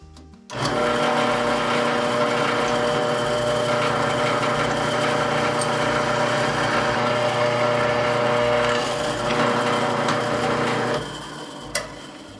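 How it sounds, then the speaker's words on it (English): A machine motor whirs steadily for about ten seconds with a constant harmonic hum, then winds down, followed by a faint click. "Going to drill this first hole out, so we're pretty well lined up."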